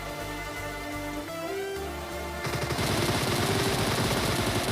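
Automatic gunfire in a shooting video game, a rapid dense burst of shots rising to a loud sustained stream in the second half, heard alone over a steady game background hum.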